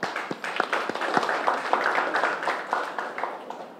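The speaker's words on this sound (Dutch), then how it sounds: "En ik geef jullie een applaus daarvoor." Applause from a studio or event audience after a tripartite agreement is announced, a scattered patter of claps with a few sharp single hits, moderately loud and steady for several seconds with no talk.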